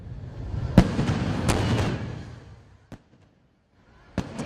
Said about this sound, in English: And blue fireworks bursting over the night sky at the Wharf.